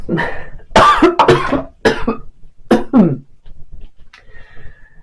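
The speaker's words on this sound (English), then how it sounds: "It's a weird cough." Several harsh, close coughs in a burst, a couple of spaced bursts with heavy breaths between, then quieter rasping.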